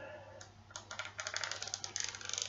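Cursor keys on a Braille Sense U2 Braille display, one of 32 matching its Braille cells, clicked repeatedly in an uneven run of crisp, close plastic taps that grow quicker and denser toward the end, with no voices.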